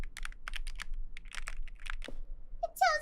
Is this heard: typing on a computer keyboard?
yes